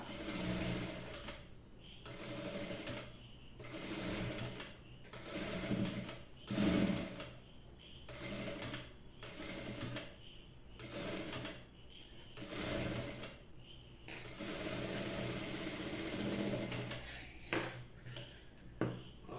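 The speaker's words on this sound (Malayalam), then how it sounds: "ഈ നെക്കിൻ്റെ ചീത്ത വശത്തേക്ക് ക്രോസ് പീസിൻ്റെ നല്ല വശം വെച്ചിട്ട് കാലിഞ്ച് വിട്ടിട്ട് നെക്കൊന്ന് സ്റ്റിച്ച് ചെയ്തെടുക്കാം" A sewing machine stitches a cross piece onto a garment neckline in repeated bursts of rapid whirring and needle clatter, separated by short pauses, close and fairly quiet.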